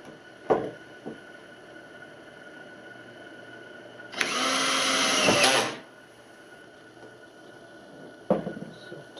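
Threads being tapped for screws in an aluminum extrusion with a power tool: one steady whirring burst of about a second and a half, near and moderately loud, framed by a few sharp taps and handling knocks.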